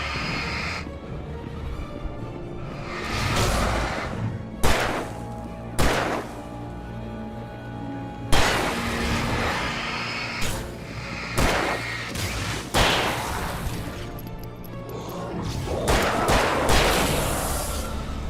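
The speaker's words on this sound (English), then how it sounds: "it sounds more real than most video game gunshots I find" Gunfire from the Alan Wake video game: a string of sharp, booming shots spaced irregularly over about eighteen seconds, loud and reverberant, with hissing ambience between them.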